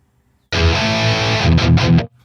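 An electric guitar played through the STL Tones AmpHub rectifier amp preset gives a loud, heavily distorted chord held for about a second, then a few quick chugging hits before it cuts off.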